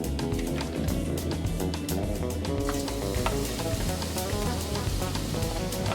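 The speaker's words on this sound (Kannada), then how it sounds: "ಇದಕ್ಕೆ ಇವಾಗ ಫ್ರಾನ್ಸ್ನ ಕ್ಲೀನ್ ಮಾಡಿ ವಾಶ್ ಮಾಡಿ ಇಟ್ಟಿರೋದು ಇದನ್ನು ಸೇರಿಸ್ಕೊಳ್ಳೋಣ." Prawns frying in ghee in a pan for a Mangalorean-style ghee roast, a steady loud sizzle and crackle throughout with faint stirring, no voices.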